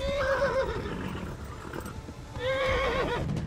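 A horse neighing in the video game Kingdom Come Deliverance: two wavering whinnies, one at the start and one near the end, over galloping hoofbeats and rushing ambience.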